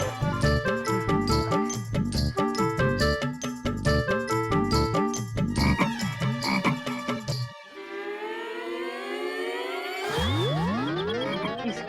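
A frog croaks loudly in a steady, rapid rhythm, followed by chirpy sliding tones and a shimmering whistle-like sweep.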